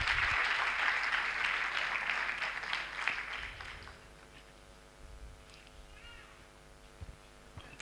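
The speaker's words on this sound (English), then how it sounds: "Another round of applause for him." Audience clapping at an anniversary and induction ceremony, a fairly faint burst of applause that fades after a few seconds into a quiet room with a low hum.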